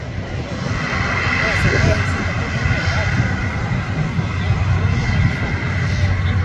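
A fixed-wing airliner takes off at Guarulhos airport in São Paulo, its engines giving a loud, sustained roar that holds steady throughout, with voices talking nearby.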